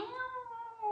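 A human voice imitates the thin, plaintive cry of a kitten stuck on a roof: one brief, drawn-out wail, quiet and alone.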